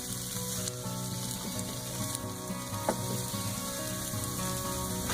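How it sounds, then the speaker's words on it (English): A sausage skillet with vegetables sizzles steadily in a pan, a continuous close, crackling fry with no voices over it. "So we just let it sizzle here"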